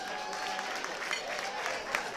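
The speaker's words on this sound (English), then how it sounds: "Give yourselves a big round of applause." A reunion show crowd at a New York City club applauds steadily, with dense clapping and crowd noise throughout and voices mixed in.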